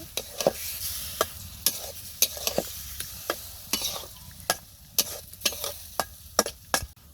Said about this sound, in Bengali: এখন মাছটা দিয়ে দিলাম মাছটা একটু ভালোভাবে কষে নিই